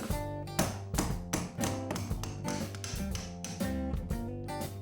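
Repeated sharp metallic taps as a hammer strikes a chisel driving out a door hinge pin, a rapid series of ringing blows close up.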